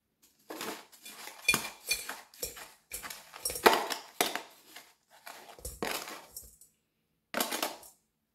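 Sugar being measured out for financier batter: a spoon scraping and clinking against a bowl in short bursts separated by pauses, close and fairly crisp, with no voices.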